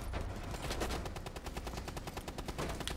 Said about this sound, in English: Emptied the entire mag in the poor kid.